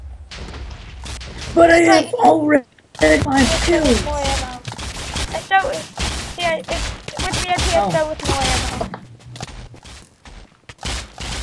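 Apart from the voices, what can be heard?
flashbangs being shot in the video game MC-War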